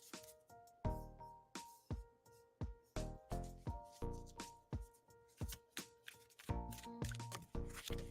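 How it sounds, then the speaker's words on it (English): Tarot cards are shuffled by hand in a steady run of crisp riffling bursts, about a dozen rapid flutters with brief pauses between them, close and clear with no voices. "shuffling for you now"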